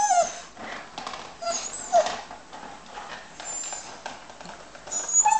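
A dog whimpers with thin high whines, repeated a few times over a quiet, scuffling background.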